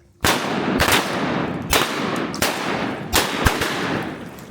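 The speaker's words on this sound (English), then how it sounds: "Yeah, good shooting, boys." Shotguns boom repeatedly during a public land duck hunt in Arkansas, with about seven loud, sharp blasts fired in quick, irregular succession, their echoes carrying between shots.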